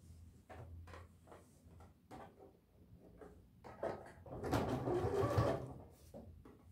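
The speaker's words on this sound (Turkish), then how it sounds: "Şimdi bunu çeviriyoruz ve buradan üstten bir dikiş atıyoruz." A sewing machine runs a topstitch along a tracksuit pocket: quiet scattered handling clicks at first, then a short, louder burst of steady machine whirring near the end.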